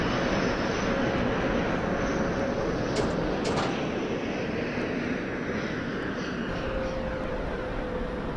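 A subway train in the Openbve train simulator rumbles on steadily and loudly throughout, with a constant broadband roar of wheels and motors and a faint whine, with no talk.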